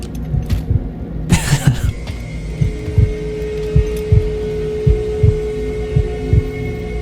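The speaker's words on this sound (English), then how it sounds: "Why is there a heartbeat now?" A slow, steady heartbeat throbs in the video game DOOM: The Dark Ages, with regular low thumps under a humming ambient drone and a brief louder burst early on.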